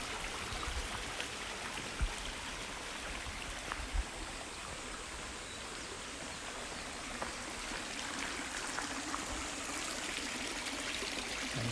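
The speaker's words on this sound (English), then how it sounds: "Nice sounds from this waterfall." A small waterfall behind a house in Tokyo splashes and trickles in a constant, close stream of water, with a few soft knocks breaking through now and then.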